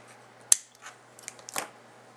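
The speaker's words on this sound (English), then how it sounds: "I'll take my scissors and just cut that off a bit." Scissors snip through a piece of gumpaste for a baby figure, two sharp close clicks with small handling noises between, no talking.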